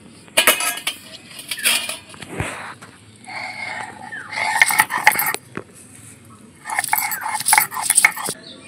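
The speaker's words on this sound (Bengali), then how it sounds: "এবারে পাতাটা বেটে নেব।" Leaves are ground into a fine paste on a grinding stone for coloured luchi, with intermittent bursts of gritty scraping and rubbing strokes separated by short pauses, close and fairly loud.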